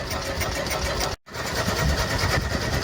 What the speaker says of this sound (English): the engine doesn't sound too loud, so I don't think I'll upset the neighbours too much